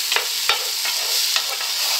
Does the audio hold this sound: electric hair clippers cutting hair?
no